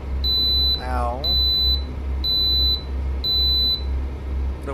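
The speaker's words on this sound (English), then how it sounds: "The way station bypass service alarm is still the most annoying thing on the planet" A way station bypass service alarm in a trucking video game's New Mexico DLC multiplayer mod beeps loudly in a steady repeating pattern of four long tones, over a low engine drone, with a short sweeping sound between the first two beeps.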